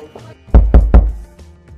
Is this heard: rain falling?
no